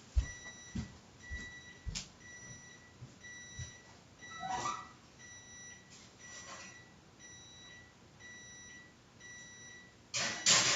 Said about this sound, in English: Ooh, that's the timer.